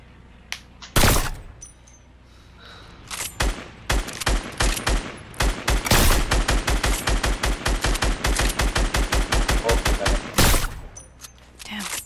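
Rapid video game gunfire, a few heavy isolated shots followed by a long steady automatic burst of close, loud repeated cracks, with faint voices underneath.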